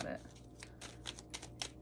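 Quiet, close shuffling of playing cards, a quick run of light papery flicks and riffles.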